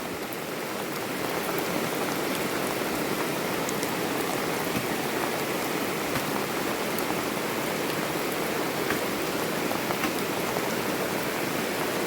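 Heavy rain pours steadily, a dense unbroken hiss of drops hitting surfaces, loud and constant throughout.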